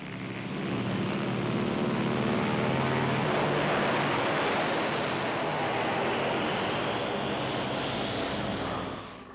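Steady, loud drone of C-47 aircraft engines towing paired CG-4A gliders in flight during a 1945 wartime operation, a continuous broad roar that swells slightly and holds without pause.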